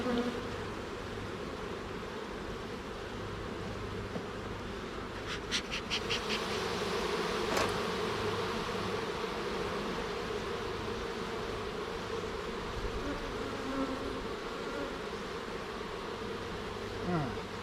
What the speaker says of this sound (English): This frame's coming out. It's basically empty. Might have some bees on it.